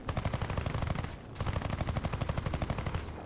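Rapid bursts of aircraft cannon fire from a Hornet Mk.III in a War Thunder dogfight, two loud sustained volleys of closely spaced shots separated by a brief pause.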